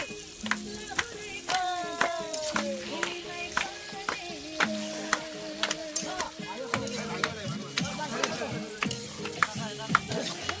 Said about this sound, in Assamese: এইটো পৰ্ক বনি আছে।